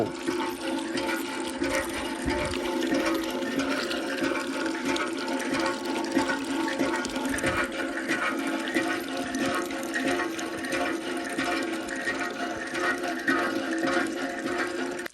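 Water gushes steadily into a container, a continuous rushing, gurgling flow at moderate volume without a break, no voices.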